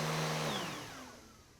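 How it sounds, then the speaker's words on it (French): A vacuum cleaner runs loudly with a steady whine, then its motor winds down and fades as it switches off. "je dois passer l'aspirateur"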